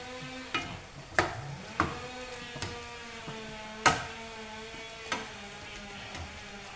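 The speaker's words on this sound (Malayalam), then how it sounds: "ഇത് അപ്പുറത്ത് മരം മുറിക്കുന്ന അതിൻ്റെ ഈ സൗണ്ട് കേൾക്കും" Wood-cutting machine sawing trees nearby: a faint, steady humming drone carries from a distance, under louder close clinks and knocks from a kitchen.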